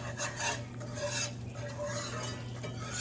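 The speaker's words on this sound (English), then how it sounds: "all I'm going to do now is just stir it so I don't burn the flour" A flour roux for southern gravy stirred in a pan, giving a steady close scraping swish with faint sizzle and a low continuous hum underneath, no talk.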